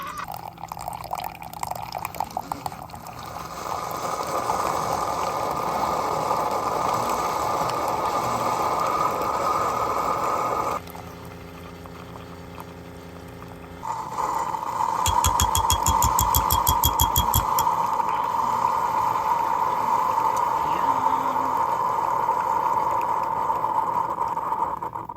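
An espresso machine pulls a double shot: a steady pump drone that cuts out briefly, then returns stronger with a rapid rattling burst before settling into a loud, even hum, with no voices.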